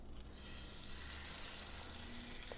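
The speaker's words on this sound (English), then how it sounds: "So you definitely want to hear that sizzle." Boneless, skinless chicken breast sizzling in hot oil in a pan, an even, continuous hiss with faint crackles, fairly quiet and close, with no talking.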